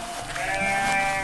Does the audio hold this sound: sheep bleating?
yes